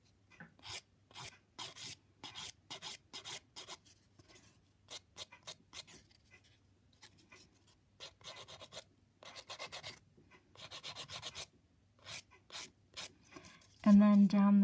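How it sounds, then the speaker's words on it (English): A nail file rasps against an acrylic nail in short, quick, repeated strokes, close and dry with brief pauses between bursts, ending in a louder knock. "So I first file around the cuticle area and smooth that."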